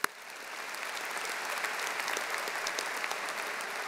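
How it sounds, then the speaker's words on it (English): A large commencement crowd applauds a master's graduate, steady, fairly distant clapping from many hands that rises after a sharp opening knock and holds evenly throughout, with no voices over it. "Can we give him a round of applause?"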